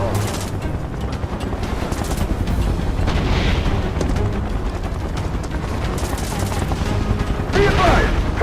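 Dense, continuous battle noise from the Final Fantasy 7 Remake video game, with gunfire and booms layered under shouted voice lines, loud and sustained throughout with a brighter burst near the end.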